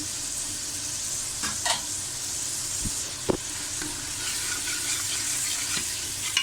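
Masala with salt, red chilli and turmeric frying in a pan for keema karela, a steady close sizzle with a few stirring clinks and scrapes, no talking.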